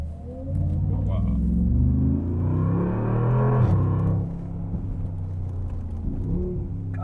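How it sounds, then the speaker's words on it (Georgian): A Brabus GT900 Rocket engine revs with a deep, throaty rumble that swells and then settles into an idle, while people talk nearby. "ჩვენი ავტომობილია და ბრაბუსი GT900 როკეტი"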